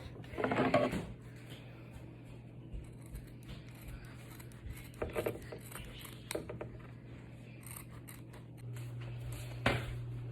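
Scissors cut through the hem of a pair of Levi's jeans in a few scattered crunchy snips with pauses between them, close and fairly quiet against a low steady hum.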